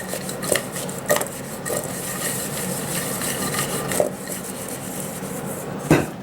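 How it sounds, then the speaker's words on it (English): Seasoned pork tenderloin pieces and vegetables tossed in a bowl, giving a steady soft rubbing and scraping texture with a few sharper knocks against the bowl, close and unaccompanied by speech. "we're just going to toss them around. Make sure we get a nice even coat"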